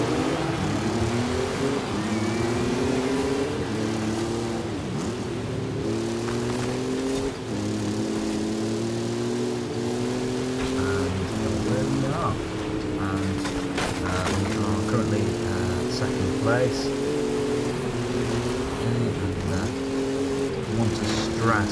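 Cross-country race cars in the Forza Horizon 5 video game, with engines droning and revving steadily throughout, rising and falling through gear changes, while a person talks over the engine noise.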